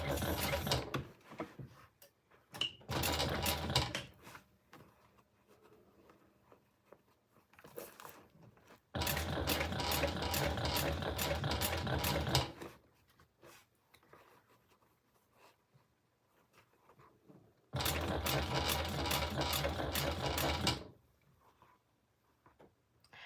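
A home sewing machine stitching a Rosie baby sling at stitch length 4 with a quarter-inch seam, in several loud, fast whirring bursts separated by quiet pauses.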